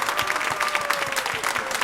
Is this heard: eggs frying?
no